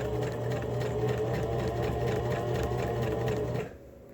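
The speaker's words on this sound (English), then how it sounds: "We will be top stitching this on the other side as well, so it will be extra sturdy for our friends." A sewing machine top stitching a fabric face mask hums steadily and loudly with a fast, even needle rhythm for about three and a half seconds, then stops abruptly, with no talk.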